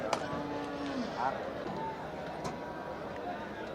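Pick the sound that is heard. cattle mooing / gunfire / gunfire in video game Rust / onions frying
cattle mooing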